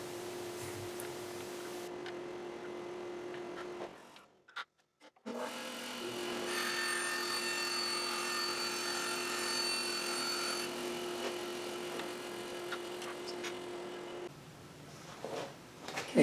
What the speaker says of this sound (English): so you can see the actual cutting from the front position